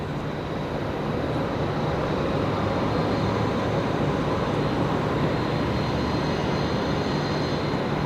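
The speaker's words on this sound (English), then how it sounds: "We got Qantas Link 1260 coming in from Melbourne here on runway rights." A Qantas Link airliner, flight 1260 from Melbourne, lands on the runway at Brisbane Airport, its steady broad engine and air roar holding at an even, loud level for the whole stretch without any talk.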